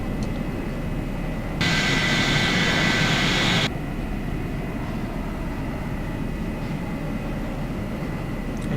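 An F-104 jet in a video game flies with a steady engine drone, and a louder, brighter roar swells for about two seconds partway through before the drone settles back.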